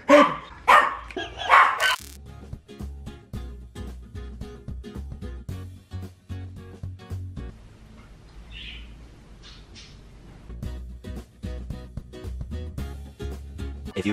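A few sharp, loud dog barks burst out at the start, then give way to a long stretch of quieter clicks, knocks and faint outdoor noise with a brief distant call midway.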